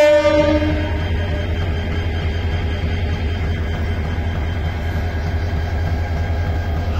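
Train at Mymensingh railway station on a foggy day, a brief horn blast at the start followed by a loud, steady low engine rumble and rolling drone, no talk.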